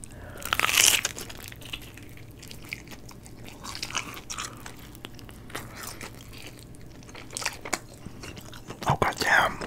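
Little Caesars Crazy Puffs get bitten into with a loud crunch close to the mic, followed by quieter, moist chewing and a few more crunchy bites, with soft wrapper crinkling in between.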